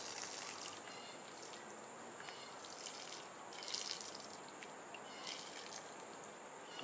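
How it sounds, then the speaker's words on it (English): Water trickles steadily through a brand-new Sawyer Mini SP128 filter, a soft continuous close flow with faint dripping and no talk. "That water flowing right through there."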